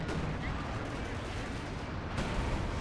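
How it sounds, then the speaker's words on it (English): Double artillery strike landing in Company of Heroes 2 on the Oka River map: a continuous dense rumble of blasts and gunfire, with a sharp fresh impact near the end, loud throughout. "And double artillery strike from me"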